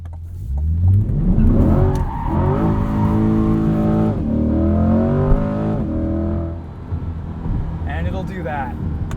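A 2020 Chevrolet C8 Corvette Stingray coupe, mid-engined, revs hard through crisp paddle shifts, its engine note rising and dropping in steps with each quick gear change, loud and close, with a driver talking over it.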